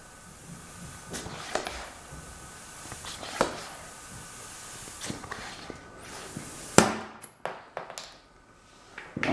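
An air dart gun with a small leak fires darts at bananas, giving a series of sharp pops and thuds, one especially loud, over a hissing background, followed by a few quieter knocks.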